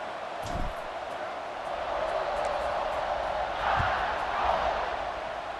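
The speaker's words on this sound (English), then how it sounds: "this crowd is feeling themselves after that last drive" A stadium crowd in EA Sports College Football 26 roars in a sustained, fairly loud wash of cheering that swells in the middle and again near the end, with no clear talk over it.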